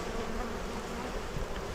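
Dense swarm of honeybees droning steadily around an open hive during a brood inspection, a close, continuous buzz filling the whole moment with no talk.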